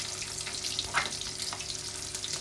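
Mackerel frying in oil, a steady close crackle and sizzle with small pops and spits scattered throughout, no voices.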